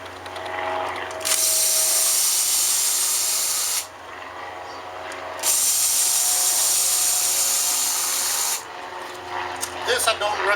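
A power drill running in reverse unscrews the terminal screws of a circuit breaker in two sustained whirring bursts of about three seconds each, separated by a short pause, ending in a few light clicks and handling noises.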